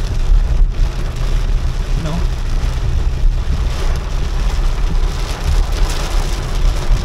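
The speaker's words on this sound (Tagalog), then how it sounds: "oh, lakas ng ulan, grabe." Heavy rain pours down loudly and continuously, a dense roaring hiss with a low rumble, and a voice briefly speaks over it.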